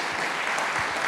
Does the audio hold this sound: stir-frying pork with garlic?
no